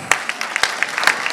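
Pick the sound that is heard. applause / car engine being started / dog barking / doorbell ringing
applause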